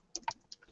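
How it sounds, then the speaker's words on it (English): A few quick keystrokes on a computer keyboard, three or four light clicks in under a second, close and alone. "Okay, just give me 1 second, I'm just typing."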